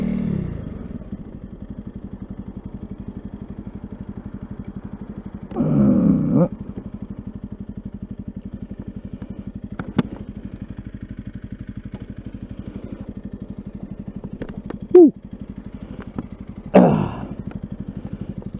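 A new Honda CRF300 Rally motorcycle idles close by with a steady, even engine throb that runs the whole time. A few short, louder clunks and bumps break in near the middle and toward the end.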